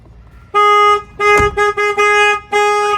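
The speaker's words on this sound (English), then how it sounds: "I'm going to open the door. The alarm's going to go off." A semi truck's alarm, set off by opening the door, honks loudly in repeated harsh bursts, uneven in length, after a brief quiet start.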